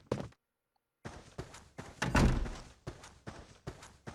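A door thunks and slams within the Clock Tower 3 video game, producing several sharp knocks and one heavier thud amid brief silence and a series of rhythmic bumps, with no talking.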